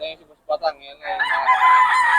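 A rooster crows close by in one sustained, loud call after a couple of short clucking notes; the crow is a Filipino SBR banded rooster at Bocaue.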